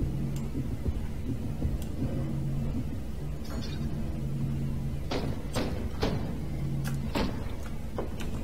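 A heartbeat in the Little Nightmares video game, low steady thumping pulses under a droning hum, with scattered sharp clicks and knocks breaking through in the second half.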